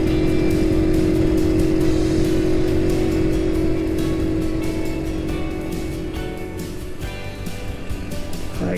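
Motorcycles at a busy countryside rider stop during a touring ride produce a constant, loud engine drone close by, with a steady idling hum and rumble that slowly eases, and a faint rising rev near the end.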